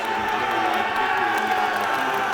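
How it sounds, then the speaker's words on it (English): A dense, steady crowd roar fills a college basketball arena as fraternity brothers cheer, loud and continuous without pauses, with no distinct voices standing out. "Jack Sawyer with his fraternity brothers cheering him on behind him"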